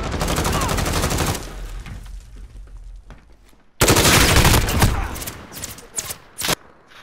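Loud, sustained automatic gunfire in Call of Duty: Modern Warfare rattles in a dense stream, drops to a lull, then returns in another heavy burst with a few sharp separate shots near the end.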